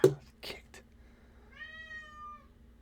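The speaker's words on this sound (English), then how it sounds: "Damn it, I woke the cat up." A house cat just roused from sleep lets out one clear, drawn-out meow near the microphone, following a few short thumps and bumps.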